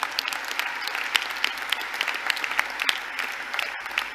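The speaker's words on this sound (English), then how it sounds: "big applause to them" Steady applause from a large audience at the WCIT 2019 closing ceremony, honoring event sponsors and partners; dense, continuous clapping with scattered sharper claps, moderately loud and without talk over it.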